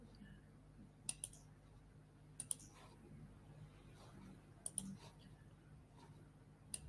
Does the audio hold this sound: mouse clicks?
yes